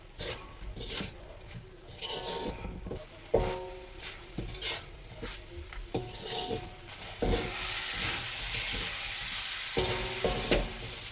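Okra masala roast stirred in a frying pan, with a steady sizzle under repeated scraping and clinking of the spoon against the pan, close and continuous, growing hissier toward the end.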